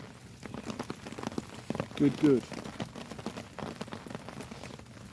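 Rain patters steadily on a hammock and tarp during a small storm in the woods, with someone speaking briefly and some nearby handling noises.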